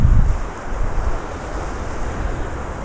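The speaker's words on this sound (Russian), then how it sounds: "Но немножечко все равно волны есть" Sea waves wash onto the shore at Simeiz on a calming sea, a soft, steady surf with a heavier surge at the start, heard through gusty wind buffeting the microphone.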